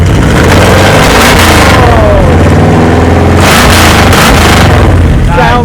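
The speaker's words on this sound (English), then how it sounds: "Rev it up a little bit." A Pontiac Tempest hotrod engine revs loudly up close, with two strong rising bursts of throttle over a rough, rumbling idle and people talking around it.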